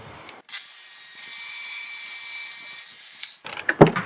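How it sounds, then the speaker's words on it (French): Quick pass of a sander over the sawn face of a stone gutter: a steady, loud abrasive whir that starts abruptly, holds for about two seconds, then stops, followed by a few scraping knocks. "Je vais mettre un coup de ponçage vite fait."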